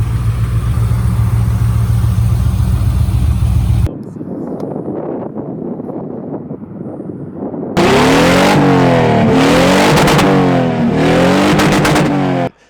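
A car engine that starts fine but won't hold an idle, a loud close running drone that drops into rough, uneven sputtering, then surges into repeated revving before cutting off.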